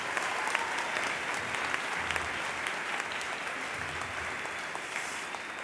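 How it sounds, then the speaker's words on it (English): Sustained applause from a large commencement audience honoring honorary degree recipients, a dense steady clapping that holds at an even level throughout without pause. "Would you give the other two honorary degree recipients another round of applause?"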